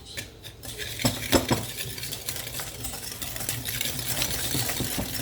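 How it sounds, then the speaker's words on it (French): Sugar mixture being whisked by hand in a bowl for an apple cake, with rapid metallic scraping and clinking of the whisk against the bowl, close and continuous, no voices. "On va fouetter le tout"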